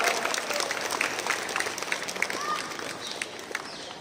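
Applause for the guest of honor at a school annual gathering, a dense stretch of crowd clapping with murmuring voices mixed in, fairly close and even throughout.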